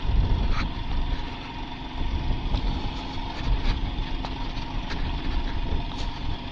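Motorcycle engine labouring uphill in second gear on a rough mountain road at Khardung La, Ladakh, a steady low rumble that holds loud and even throughout, with no voices.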